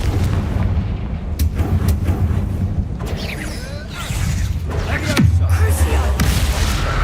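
Confringo blasting curse going off in the Hogwarts Legacy video game: a loud, close run of booming blasts and crackling impacts, with rumbling game effects between them and a steady low mechanical drone.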